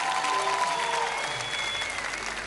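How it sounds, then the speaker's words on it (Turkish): Studio audience applause on a Turkish television music show, a full, steady burst of clapping filling the short stretch at close range. "Alkışlayabilir miyiz?"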